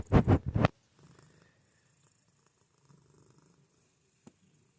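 A cat purrs up close, starting with a few loud rumbling pulses in quick succession before fading to a faint, barely audible murmur.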